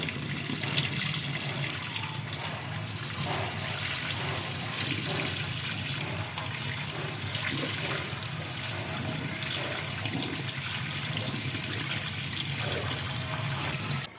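Water runs and splashes steadily as excess water is drained from boiled potatoes for potato chips, with a low hum underneath and no talking.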